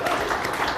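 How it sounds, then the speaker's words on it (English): A live audience at a Green Bay Packers locker room show claps in a dense, continuous wash of applause, loud and close, with no distinct individual claps. "Yes, you can keep clapping for him."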